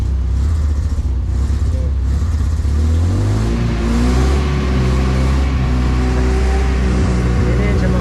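A close, loud engine revs as its RPM climbs, its tone rising and holding at a higher pitch, and someone talks briefly over it.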